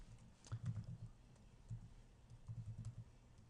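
Password being typed on a computer keyboard, with short clusters of soft keystroke taps separated by brief pauses, close up and fairly quiet, with no talking.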